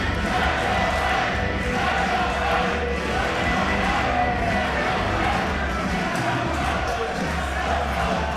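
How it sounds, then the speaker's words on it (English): A wrestling arena crowd roars and cheers during a wrestler's ring entrance at a Smash Wrestling show, a continuous loud rumble of many voices with a commentator faintly beneath. "Hey, listen to this crowd."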